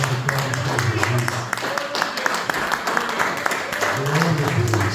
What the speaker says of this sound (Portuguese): Irmão, aplauda Jesus melhor, vai.